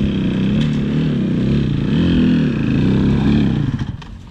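A motorcycle engine revs steadily and loud up close as the clutch is let out, the pitch rising and falling through the clip before the sound drops away at the end.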